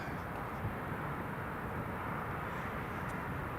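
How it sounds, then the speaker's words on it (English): Distant steady roar of a Jet2 airliner taking off at Newcastle International Airport, a faint continuous engine rumble with no talk. "Jet2 is clear for takeoff."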